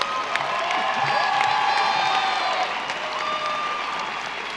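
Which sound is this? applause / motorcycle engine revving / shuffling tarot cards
applause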